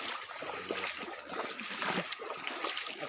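Slow wading through floodwater in a flooded sugarcane field, soft continuous sloshing and splashing of water close by, with a faint trickling background.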